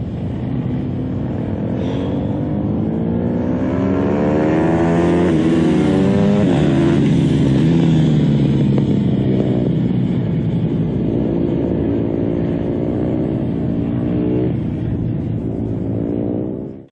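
A motorcycle leans through a series of S-curves, its engine droning loud and close without pause, pitch rising and falling as the rider rolls the throttle on and off through each bend.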